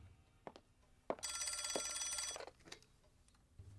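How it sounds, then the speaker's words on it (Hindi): An old-style telephone bell rings once in a quiet room, a bright metallic trill lasting just over a second, with faint knocks and small handling sounds around it. "फोन बज रहा है।"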